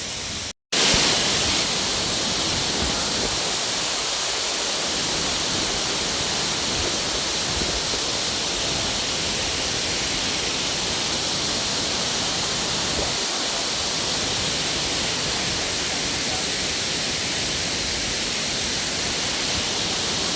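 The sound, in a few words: strong waterfall rushing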